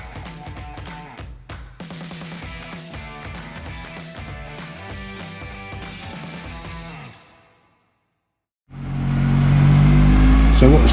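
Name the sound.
pickup truck engine warming up on rolling road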